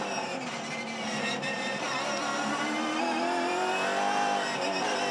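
A Supercars Championship race car engine screams at high revs, then eases off as the driver lifts, and the dense mechanical whine carries steadily through several seconds.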